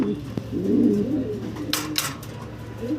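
Fancy pigeons cooing up close in a loft, a couple of soft throaty coo phrases with a brief rustle and light clicks in between.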